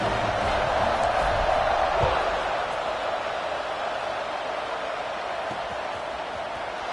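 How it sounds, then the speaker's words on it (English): A football stadium crowd rumbles and buzzes steadily after a scoring drive, a dense, loud wash of voices that swells a bit at first and then settles to a sustained roar. "this crowd is buzzing after that last score"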